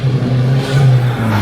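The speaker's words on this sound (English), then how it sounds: "It was a 2-litre big turbo GT model with the E88 early generation engine, and this thing is absolutely ripping." A Volkswagen Scirocco 2-litre turbo GT with an early E88 engine revs hard and steadily, a loud, close, sustained engine drone with no talk over it.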